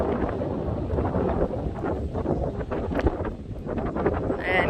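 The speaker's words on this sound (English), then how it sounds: "The wind is blowing really bad." Strong wind buffets the microphone outdoors in downtown Hay Springs, Nebraska, a loud continuous rumbling gusty roar with surging low thumps and no pause.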